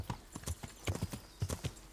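Horse hooves clip-clop in a steady, brisk rhythm on a warhorse in the medieval video game Kingdom Come: Deliverance, close and clear with no talk over them.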